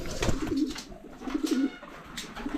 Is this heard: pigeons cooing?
yes